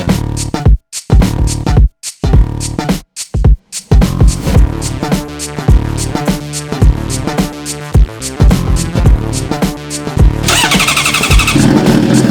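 A Honda CBR1000RR Fireblade 1000cc sport bike engine sputters in a few short bursts, then catches and settles into a loud, close, throbbing idle with occasional revs.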